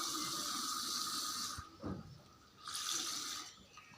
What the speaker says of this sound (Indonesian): Saya mengambilnya air tersebut di air mengalir.